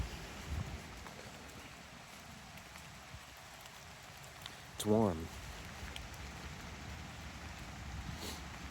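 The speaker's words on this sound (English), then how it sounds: "It's a nice rain." Steady soft rain patters all around, faint and even, with a brief spoken remark partway through.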